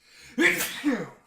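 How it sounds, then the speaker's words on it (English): A single sneeze bursts out close to the microphone during a live podcast, a quick sharp intake followed by a louder explosive release lasting about a second. "I have to sneeze."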